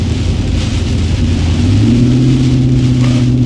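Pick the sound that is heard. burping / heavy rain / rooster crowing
heavy rain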